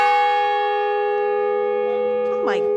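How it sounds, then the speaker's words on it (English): A large fog signal bell at a maritime museum in Bath, Maine rings out with a loud, sustained metallic tone whose overtones hang and slowly fade, while a voice briefly cuts in near the end. "this bell was installed as part of a fog signal"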